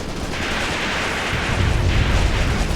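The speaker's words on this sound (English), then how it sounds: "The Il-2's firing right on that enemy trench" An Il-2 aircraft strafes an enemy trench in the video game Graviteam Tactics: Mius-Front, a dense, continuous roaring barrage of fire that swells slightly louder partway through.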